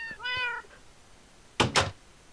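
A cat meows twice in Minecraft, the calls clear and close, followed by two sharp wooden knocks or thunks; no one speaks.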